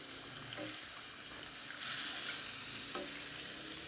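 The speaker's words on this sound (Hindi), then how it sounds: "जो घी है उसी में हम इसको जो है ना फ्राई कर रहे हैं।" Chicken liver (kaleji) frying in ghee in a karahi, giving a steady, close hiss and sizzle with a brief swell of spattering midway and faint stirring clinks.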